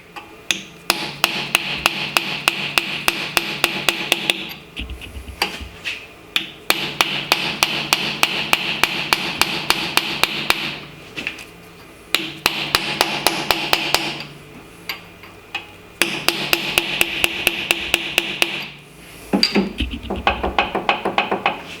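Rapid bursts of metallic hammer taps in quick rhythmic runs, pausing briefly between sets, close and loud with a ringing metal edge, as a bearing is hammered onto the axle of a GM 10-bolt rear end.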